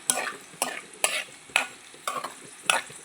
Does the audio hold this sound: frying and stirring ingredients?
yes